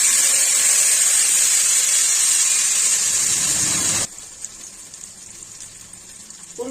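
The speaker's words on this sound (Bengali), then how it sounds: "জল দিয়ে দিলাম।" Water hits a hot cooking pan with potatoes, giving a loud, continuous bright sizzling hiss for about four seconds before dropping abruptly to a low, quiet simmering crackle.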